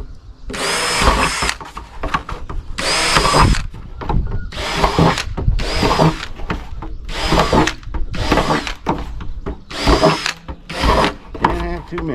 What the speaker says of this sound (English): this is the same drill bit I cut the perforated pipe with, or drilled the holes in it